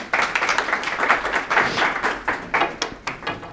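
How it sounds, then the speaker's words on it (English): A lecture-hall audience at a university vision-science class claps for a student volunteer, a brief burst of applause that thins into separate, spaced-out claps toward the end. "Give her a round of applause."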